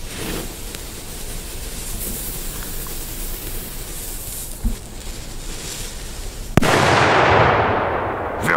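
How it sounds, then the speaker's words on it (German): A Polish-made Funkenschlag 3 firecracker goes off outdoors: one sharp, loud bang near the end, then a hissing, rumbling tail that fades over the next two seconds, all above a steady rushing background. "Wirklich schöner Böller."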